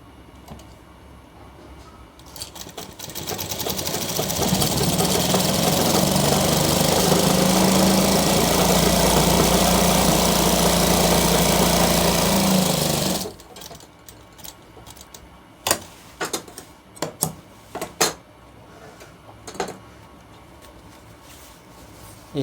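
A sewing machine stitching a shirt along the button placket runs in one continuous loud whirring burst for about ten seconds, then stops, followed by a few scattered clicks and handling knocks.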